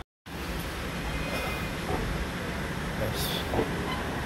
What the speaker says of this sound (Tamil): ஒரு 2 minutes ஹால்ட்டுக்கு அப்புறம் நம்ம நீடாமங்கலம் ஜங்ஷன்லேருந்து கிளம்பியாச்சு